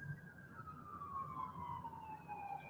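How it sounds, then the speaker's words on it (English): An ambulance siren wails from a distance as it approaches, a single falling tone steady over low background rumble, fairly faint. "I can hear those lights and sirens right now, and the ambulance is coming around the corner"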